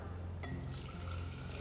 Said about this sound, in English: And then pour into your, of course, your sterilized jar.